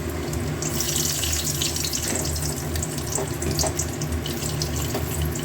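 Garlic fries in hot oil with dried chilli and peanuts for a chutney, a steady, close hiss and crackle with tiny pops that holds at an even loudness throughout, with no talking.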